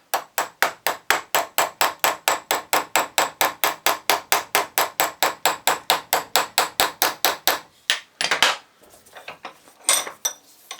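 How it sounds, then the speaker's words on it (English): A small hammer repeatedly taps a Bosch starter solenoid clamped in a vise, giving a fast, even run of sharp metallic knocks, close and loud, followed by a few irregular heavier strikes. "Get your small hammer."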